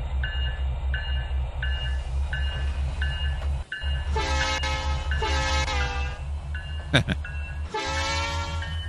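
A train horn in the Trainz 2019 railway simulator sounds in repeated loud blasts over a rumbling locomotive, the tone bending with Doppler shift as the train passes; someone talks faintly at moments.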